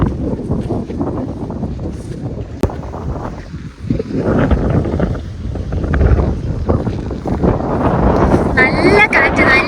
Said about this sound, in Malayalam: അയ്യോ, നല്ല കാറ്റ്.